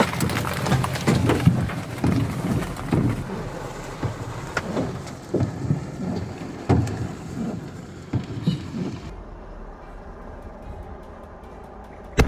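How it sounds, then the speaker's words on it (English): Golf-ball-sized hailstones fall in a storm, making a dense, loud, continuous clatter of hard impacts that suddenly thins to a quieter wash near the end. "Have you ever seen hailstones as large as golf balls like these?"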